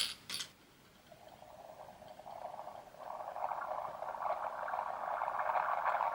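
After a short click, a faint electronic bubbling hiss starts and grows steadily louder, like a small toy imitating water coming to a boil, from a LEGO Star Wars smart brick set.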